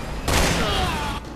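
A burst of gunfire in the video game Resident Evil 6 cracks out as a short, sharp volley, loud and close, over a steady game background.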